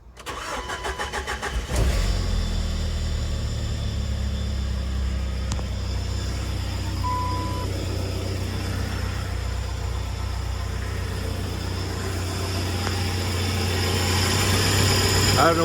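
A Jeep Wrangler with a swapped-in engine cranks briefly, catches, and settles into a steady close-up idle with a low, even hum and faint mechanical whine, with no talking.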